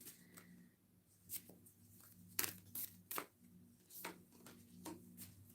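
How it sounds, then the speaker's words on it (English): Quiet riffling and soft slaps of cards being shuffled, several brief crisp bursts over a faint low hum. "shuffle it again for Leo."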